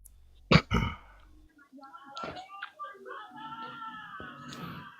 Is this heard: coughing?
yes